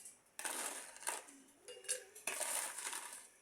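Fried chillies poured into a box make a run of dry, rustling, crunchy bursts with light clinks, close and quiet, coming in several separate pours.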